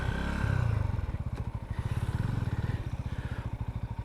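A Sothassi Classic 400 motorcycle idles and is put into first gear, a close, loud thumping single-cylinder pulse with a brief mechanical clunk, steady rhythmic beats continuing alone.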